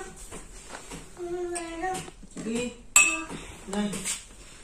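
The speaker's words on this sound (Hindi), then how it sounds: "ये शीशे के बर्तन जो है ना ये मैंने निकाल ली है। एक एक करके नहीं शनी एक एक करके तो इस टोकरी में रख लेती हूँ" Glass dishes taken out one at a time and set into a basket in a home kitchen, giving several distinct clinks and rattling knocks of glassware, with someone talking throughout.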